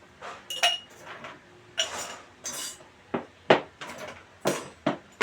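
A tall highball glass clinks repeatedly as a mixed drink with Royal Salute whisky is prepared, giving a string of sharp, close glassy knocks and taps at an uneven pace with no talking.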